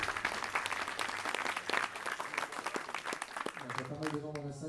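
An audience at a ceremony for a charity cheque presentation applauds in a sustained round of clapping, with a voice beginning to speak over it near the end.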